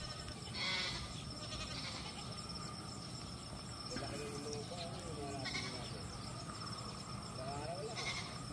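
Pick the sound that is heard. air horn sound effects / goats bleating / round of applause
goats bleating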